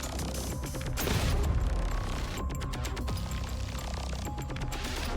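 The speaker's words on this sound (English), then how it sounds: "A large explosion from a sandpit stops the Colossus in its path." A large explosion erupts in a sandpit in the video game Punishing: Gray Raven, a dense rumbling crash with crackling debris and scattered sharp impacts, followed by a sustained noisy roar.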